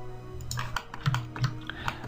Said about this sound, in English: I press delete on the keyboard and I delete half my model.